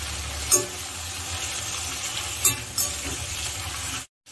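Eggplant sautéing in oil in a pan for tamarind curry, a steady close sizzle with a few brief louder stirring clatters, then silence at the end.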